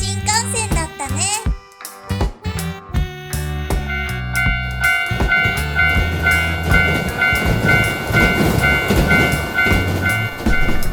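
Animated Shinkansen bullet train in a children's cartoon, rumbling steadily with a loud sustained roar after a stretch of musical jingle and tones, the passing train noise continuing to the end.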